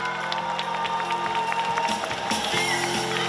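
An outdoor crowd at a Busan International Film Festival open talk applauds and cheers the arriving film director and actors, a dense, continuous wash of clapping with scattered shouts that swells toward the end.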